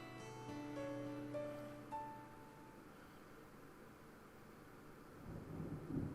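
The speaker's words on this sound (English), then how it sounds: "Big black cumulonimbus clouds are in the sky. And that sound. Thunder snow is coming." Thunder rumbles low and distant in the video game Deadly Premonition 2 as a snowstorm approaches, fading in after soft musical tones and swelling near the end, with no talking.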